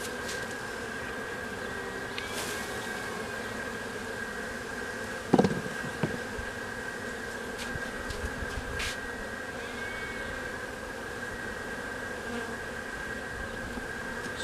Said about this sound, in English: we got us a couple bees in the box